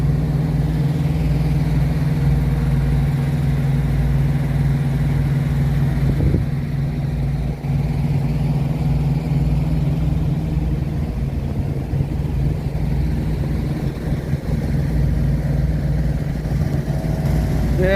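A full-sized 2020 Cascadia semi truck sits idling, its deep engine drone steady and close throughout, with a brief clunk midway and a slight rise in roughness near the end.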